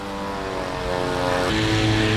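A large homemade RC air boat drives through water thick with weeds and lily leaves, its propeller engine a loud, steady drone that rises slightly in pitch and strength toward the end, close by.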